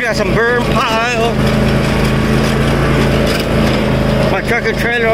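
A riding lawn mower engine drones steadily and close by while mowing a field near a creek and pond, a continuous loud motor hum with a low rumble underneath.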